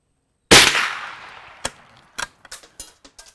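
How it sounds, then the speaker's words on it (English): A Savage Arms Springfield 120A single-shot rifle fires one sharp, loud shot that rings and decays outdoors, followed by a string of fainter clicks and clacks. "Let's do a few more shots, see what we can do"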